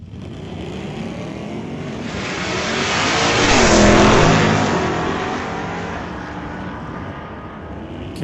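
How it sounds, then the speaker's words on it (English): A family Mach 1 Mustang at an old-time drag strip roars past, its loud engine swelling to a peak midway and fading as it pulls away down the track, with no voices over it. "Cassidy Langley in the family Mach 1 Mustang"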